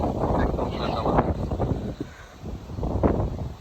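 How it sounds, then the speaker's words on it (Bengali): Strong cold wind gusting through date palm fronds, a steady loud rush with rustling surges and buffeting against the microphone throughout. "প্রচুর বাতাস, ভরপুর বাতাস, ঠান্ডা বাতাস।"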